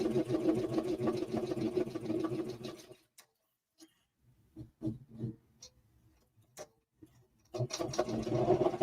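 A BAI 15-needle embroidery machine stitching appliqué orders runs with a fast, steady mechanical chatter, stops for a few seconds of quiet broken by small clicks and taps, then starts up again loud and close.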